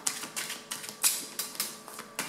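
A deck of tarot cards is shuffled up close, giving a quick series of about ten crisp, papery riffling bursts in an uneven rhythm, with no talking.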